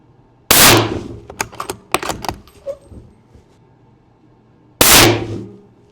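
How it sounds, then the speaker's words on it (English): A budget long-range hunting rifle fires at 100 yards, two sharp, loud reports several seconds apart. Between them come metallic clinks and rattles of the bolt being worked. "We're gonna shoot another 3-shot group without letting this rifle cool."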